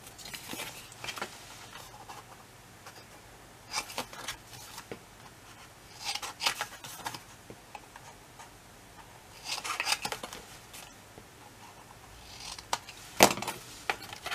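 Paper being creased and bevel-cut with scissors for a pocket in a handmade album: quiet, sporadic scraping, rubbing and snipping bursts spaced a few seconds apart, close to the microphone.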